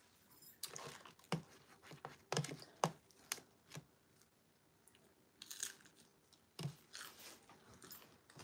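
Crunchy chicken tenders being chewed close to the mic during a mukbang, with sharp irregular crunching bites and quieter chewing between, no talking.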